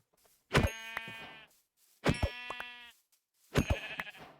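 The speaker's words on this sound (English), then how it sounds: "We got some sheep." Sheep in Minecraft bleat three times at even intervals, each a clear, quavering call about a second long, close and moderately loud with quiet gaps between.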